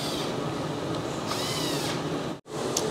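A power tool whirs steadily while loosely running up engine bolts, its motor drone continuous for over two seconds before a brief stop and restart.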